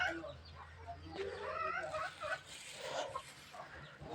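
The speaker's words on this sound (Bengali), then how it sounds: "আমার মার মুরগির খোয়ার হাঁসের খোয়ার ঘর" Chickens cluck softly in a backyard chicken and duck coop, faint and intermittent bird sounds with low background noise and no talk.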